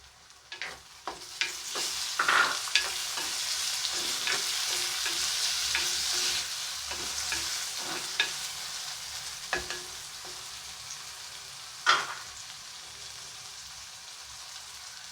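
Onions and tomatoes fry in a pan as a utensil stirs and scrapes through them, giving scattered knocks over a continuous moderate sizzle that swells in the middle and fades slightly toward the end.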